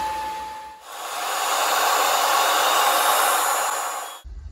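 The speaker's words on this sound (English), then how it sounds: "we've just finished cutting out our part with the CNC" A CNC router cuts out a guitar case part, a continuous loud whirring hiss that starts abruptly, holds steady for about three seconds, then stops.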